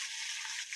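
Mustard seeds, cumin, green and dried chilies, curry leaves and asafoetida frying for brinjal curry while being stirred, a bright close sizzle that runs steadily through the brief moment.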